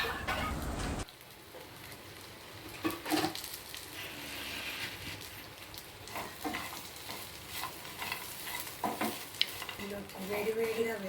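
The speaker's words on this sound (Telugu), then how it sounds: "అందులో ముందుగా వేయించి అట్టి పెట్టుకున్న జీడిపప్పు వేసి బాగా కలపాలి" Okra and fried cashew curry is stirred in a pan, with low sizzling and intermittent scraping and clinking of a spoon against the metal, fairly quiet and close.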